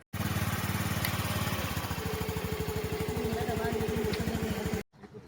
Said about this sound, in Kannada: ಸ್ಕೂಟಿ ತೆಗೆದು